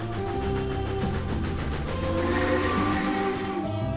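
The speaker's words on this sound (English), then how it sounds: "T is for train, choo-choo in sight." A cartoonish train sound effect with rhythmic chugging pulses and whistle-like tones, steady and close throughout, no voices.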